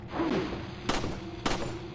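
Two sharp gunshots ring out about half a second apart, each with a bright crack, over a steady low game-like background hum.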